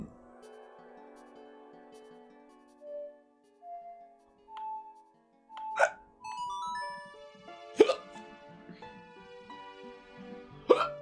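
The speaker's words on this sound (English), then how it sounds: "Just getting hiccups over there." Hiccups from someone off to the side during a Legend of Zelda: Ocarina of Time play session, three sharp isolated bursts near the end over quiet game music.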